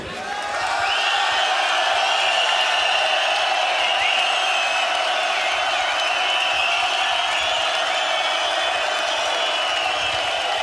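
A live rap battle crowd for a rapper gives a steady roar of applause and cheering, with a shrill whistle-like tone sustained above the dense crowd noise throughout, loud and continuous.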